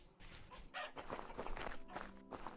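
Chickens in the video game Vintage Story cluck in a series of short, scratchy calls over steady background noise, at a moderate distance with no talking.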